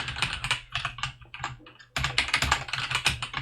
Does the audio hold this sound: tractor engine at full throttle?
no